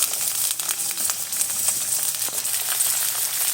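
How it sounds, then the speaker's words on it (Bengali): Carrots, beans, potatoes and cauliflower frying in oil in a pan for a vegetable dal, giving a steady, close sizzle with scattered crackles throughout and no talking. "লবণ, হলুদ দিয়ে আমি সবজিটা ভালো করে ভেজে তুলে নেব।"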